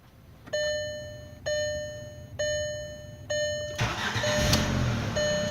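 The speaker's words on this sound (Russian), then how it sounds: "В тепле и стартер срабатывает, смотрите, прям моментально, сразу." A VW Passat B5+ fitted with a Valeo alternator: several repeating warning chimes sound, then the starter cranks briefly and the engine catches at once, settling into a steady close idle.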